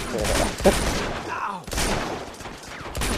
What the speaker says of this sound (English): He starts shooting a fucking Smith & Wesson.